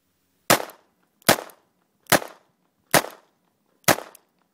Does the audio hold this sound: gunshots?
yes